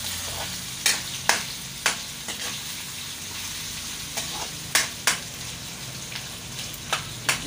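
Pork sizzles in a pan with onion and garlic while adobo is cooked, a steady frying hiss broken by sharp stirring clatters every second or so, close and continuous.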